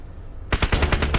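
Continuous automatic gunfire in the battle royale game PUBG, a rapid loud burst of evenly spaced shots starting abruptly after a short quiet moment and continuing to the end.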